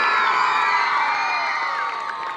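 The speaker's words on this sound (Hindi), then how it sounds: "जोरदार तालियां क्लास 12th के लिए" A school audience at Saraswati Residential School in Patna roars for the class 12 students with sustained cheering, whoops and young voices shouting together, loud and dense throughout before easing slightly at the end.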